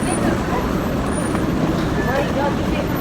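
Road traffic in Kuwait, a dense continuous roar of passing vehicles, loud and steady with no breaks.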